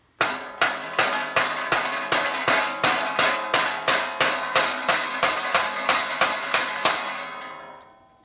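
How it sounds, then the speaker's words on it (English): A screwdriver is struck with a hammer to free a badly stuck screw: about fifteen loud, evenly spaced metallic whacks ring out close by, then the last blow trails away. "You just give it a few whacks till you start seeing that your screw head is spinning"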